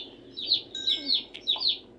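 A chicken in the Minecraft video game gives a few short, clear clucks and chirpy calls in quick succession, close and alone.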